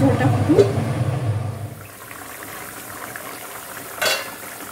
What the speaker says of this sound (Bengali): ঢাকা দিয়ে রাখি, ঝোলটা ফুটুক।